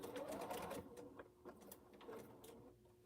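Sewing machine stitching a small curve on a quilt, its motor and needle running in a steady whirring buzz with slight speed changes, close but quiet, with no speech.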